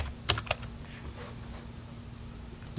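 Keystrokes on a computer keyboard while entering a new password, a few quick soft clicks in a short burst and then a couple more, close and faint over a low room hum.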